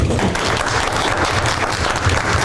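Applause at a park district board meeting honoring a youth football league's tenth anniversary: a dense, continuous wash of clapping, loud and close throughout with a heavy low rumble, no speech.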